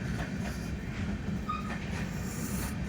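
A train rumbles steadily nearby at a railway station, with wheels clattering on the rails and a brief squeal, under a constant low roar and no talking.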